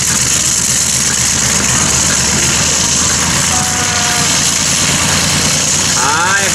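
A huge W18 engine in a 2.5-tonne free-class tractor-pulling vehicle rumbles loudly and steadily amid outdoor event noise, which fills the whole stretch with a dense, unbroken roar.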